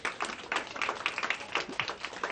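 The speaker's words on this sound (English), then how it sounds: "You can do a little round of applause for the Barons" Light round of applause at a school healthy smoothie challenge, for a culinary arts team called the Barons: scattered, moderately distant hand claps patter steadily throughout with no voices.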